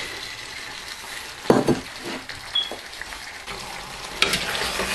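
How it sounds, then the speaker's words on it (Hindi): Fried chicken pieces being added to a pot of biryani and stirred: soft sizzling under a few louder thumps and scraping stirs at close range, with no talk. "इसमें अब हम चिकन डालते हैं।"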